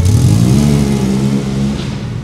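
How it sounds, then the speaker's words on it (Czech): An FGR Midalu 2500 V6 car engine revs loudly and close, a deep throaty growl rising in pitch and holding steady, with no voices over it. "Vždy, když uslyším zvuk motoru,"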